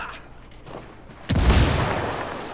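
A frag grenade detonates in Ghost Recon Wildlands with a sudden loud blast and a broad rumbling roar that slowly fades, following a quieter stretch of low background ambience.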